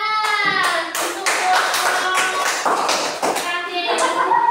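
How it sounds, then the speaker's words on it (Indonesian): Applause from a fifth-grade class of students in a classroom: a loud burst of clapping that holds for several seconds, with a teacher's voice and children's voices over it. "Tepuk tangan untuk"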